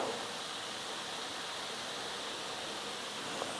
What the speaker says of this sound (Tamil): நான் வந்து 2 கரண்டியாகவே ஊற்றி நான் வந்து பொரிச்சு எடுத்துக்க போகிறேன்.